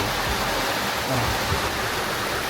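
A stream flows near Geradi Ella Falls, a loud, steady rushing wash of water filling the scene outdoors with no voices.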